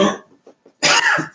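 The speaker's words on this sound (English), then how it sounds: "gotta clear your throat" Someone clears their throat with a raspy hack, a short pause of small noises, then a louder, harsher rasping burst close by.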